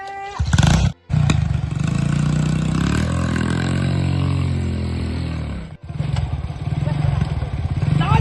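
A motorcycle engine revs loud and close, its throaty roar rising and falling over several seconds, briefly cutting out twice before picking up again.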